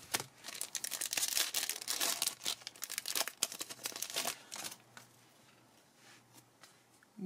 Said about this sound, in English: So let's go ahead and open up. Let's open these packs up.